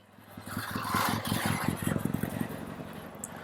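A 1964 Triumph TR6R motorcycle engine runs close by, with a steady low rumble and fast regular firing pulses that swell slightly and hold throughout, no talk over it.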